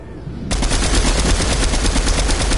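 Rapid automatic gunfire from behind in Fortnite erupts abruptly and rattles on continuously, loud and close, with no talking over it.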